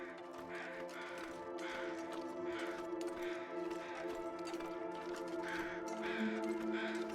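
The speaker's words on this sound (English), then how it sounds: "Heard the carrion crows and I was like, okay, something dead is around here." Carrion crows caw repeatedly in the video game The Long Dark, with rhythmic harsh calls roughly every half second over a steady tonal ambient drone, fairly faint and with no speech.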